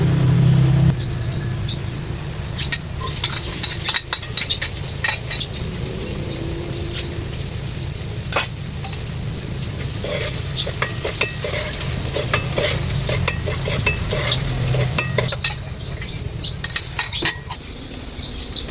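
Food sizzles steadily in a hot pot, sautéing for arroz caldo, while a utensil scrapes and clinks against the metal in repeated stirring strokes.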